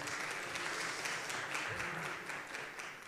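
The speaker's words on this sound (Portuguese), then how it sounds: "Palmas" Audience applause at a panel on tax reform and telecommunications, steady dense clapping from a room full of people, heard from a distance at low level and tapering off at the end.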